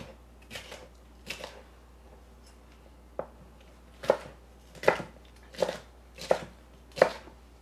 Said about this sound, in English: We're going to slice it up. Kind of chunky.